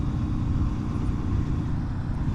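A Porsche GT2 RS, debadged, passing on a canyon road, a loud steady engine and road roar that stays broad and constant.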